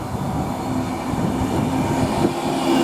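A train rumbles steadily at Milton Keynes Central station, a close rolling drone with faint rail hum and no voices.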